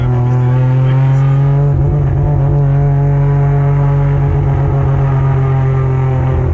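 A Mazda RX8 rotary engine drones steadily and loudly from inside the car while driving at night, a constant smooth hum with slight shifts in pitch.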